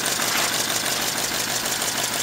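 A small compressed-air model V8 engine runs steadily, producing an even, quiet hiss and rapid mechanical chatter with no pauses, close and continuous throughout.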